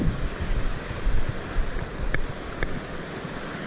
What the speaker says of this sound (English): hopefully the wind noise is not too much